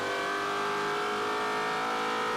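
Race car engine at the VIR SpeedTour, a sustained high-pitched whine held at steady revs, loud and continuous with no talk over it.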